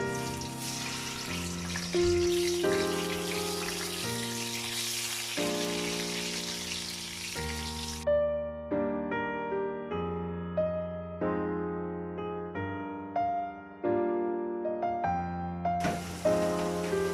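Tofu sizzles steadily as it fries in oil in a non-Teflon pan beneath a gentle melody; the hiss drops out midway and returns near the end.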